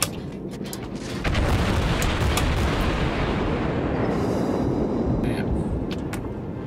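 Naval gunfire in World of Warships: a sustained roaring rumble of heavy cannon fire with sharp cracking reports at the start, loud and continuous throughout.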